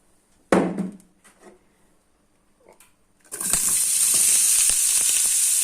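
A clatter and a few soft kitchen knocks give way to a loud, steady sizzle of onions frying in hot grapeseed oil.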